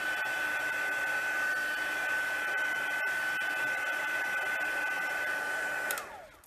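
A heat tool drying stamped Brusho and bleach paper gives a steady, loud, close blowing whir with a high whine that runs without a break, then winds down at the end.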